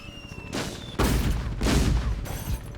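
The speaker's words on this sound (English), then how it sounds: "Something's shooting me from up there." Enemy gunfire in the Dreamcast game Toy Commander: several bursts of rapid shots and booms, loud and alternating with brief gaps, with no talking.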